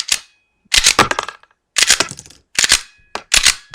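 A semi-automatic handgun fired on a range while testing double feeds caused by riding the slide, four loud, sharp close shots spaced about a second apart, each with a short ringing tail.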